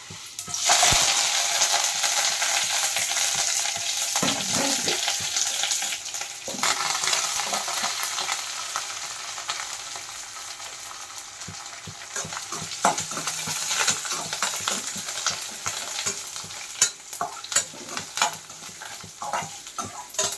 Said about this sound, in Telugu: ఈ తాలింపుకి అయితే ఎండుమిర్చి తాలింపు గింజలో కరివేపాకు జీలకర్ర అయితే వేస్తున్నా